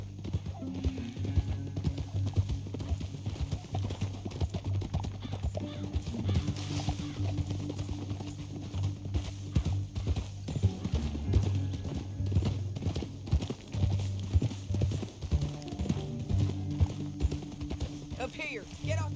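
Rhythmic hoofbeats of horses galloping in the video game Red Dead Redemption 2, with an occasional whinny, under voices and background music.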